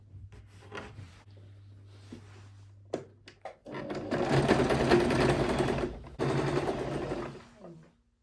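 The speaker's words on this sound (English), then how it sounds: "I will sew the shoulder line from here down." A sewing machine running a long burst of stitching down a shoulder line, loud and steady with a short break, after a stretch of quieter handling and brief speech.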